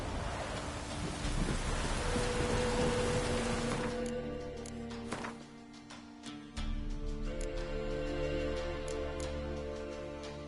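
Rain falling in The Witcher video game, a dense hiss of rainfall that thins out midway into scattered drips and tapping over low ambient hum, with no one talking.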